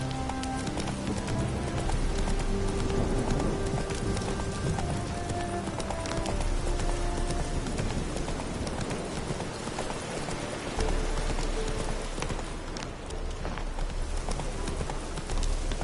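Rapid clip-clop of Roach the horse's hooves galloping in The Witcher 3 game, a steady driving rhythm over a constant wash of rain, close and loud throughout.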